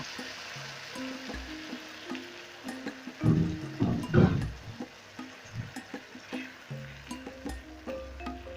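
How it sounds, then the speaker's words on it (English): Water poured into a pan of sizzling gizzard sauce, a sharp burst of hissing and bubbling that settles back into a quieter sizzle with light stirring knocks. "Then I'll add in some water"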